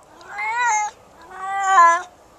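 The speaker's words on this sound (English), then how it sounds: "Have you ever heard a female cat call out in heat? Tell me that's not a dramatic, freaky sound." A female cat in heat yowls twice in long, wavering, drawn-out calls, loud and close with brief silence between them.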